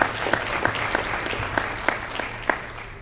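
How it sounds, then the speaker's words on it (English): Applause from an audience at a Masonic lodge memorial service: a steady wash of clapping throughout, moderately loud and close, with sharper individual claps standing out. "you should give yourselves a round of applause"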